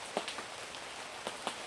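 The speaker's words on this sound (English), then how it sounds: "otherwise it's just been doing nothing but rain" Rain falls at a campsite in cold weather, a soft steady patter with a few sharper drops landing on a surface nearby; faint and continuous, with no voices.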